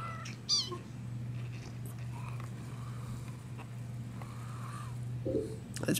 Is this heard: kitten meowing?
yes